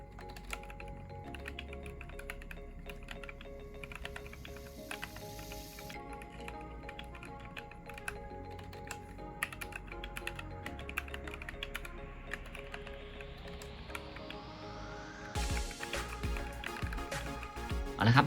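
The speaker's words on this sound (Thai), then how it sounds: "ต่อไปนะครับ จะเป็นเสียงพิมพ์ แล้วก็ฟิลการพิมพ์งานนะครับ" Continuous clacky typing on a Glorious GMMK 2 65% mechanical keyboard, rapid irregular keystrokes close up, with a louder flurry of presses toward the end.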